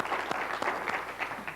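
Applause from a lecture audience, a brief burst of many hands clapping at steady volume, with a few sharper claps standing out from the crowd.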